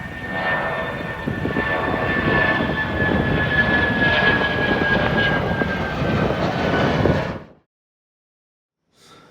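Airplane engine noise, a loud, steady broadband roar heard close by for about seven seconds before cutting off abruptly into silence.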